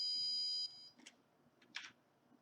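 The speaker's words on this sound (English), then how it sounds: "Should beep at the user." Finch educational robot on a desk sounds a steady electronic beep tone for under a second, followed by two short, brighter chirping bursts against quiet room noise.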